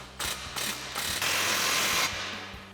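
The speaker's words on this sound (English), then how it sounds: "And then we're gonna take a 15mm socket and tighten down my clamp." A ratchet with a 15mm socket tightens an exhaust clamp on a 2017-2022 Ford F-250 4-inch aluminized single exhaust: three quick close bursts of clicking, then a longer steady run of ratcheting.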